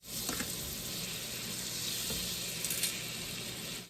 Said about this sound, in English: go in with a couple of tablespoons of butter in our skillet for our shrimp. Get that melted really good